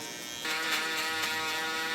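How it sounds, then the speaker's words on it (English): Electric shaver buzzing steadily through a haircut fade, starting a little softer and then running louder and constant, close by, with no talking. "that's what we're gonna use for the electric shaver."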